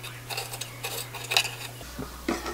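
Soaked dried persimmons being cut into small pieces, with a run of light clinks and taps from a knife and dishware, moderately close and without talk.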